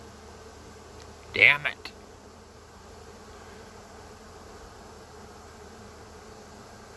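A swarm of honey bees, about four pounds, lets out a brief close buzzing burst that fades quickly into a quiet outdoor hum, with a short spoken exclamation.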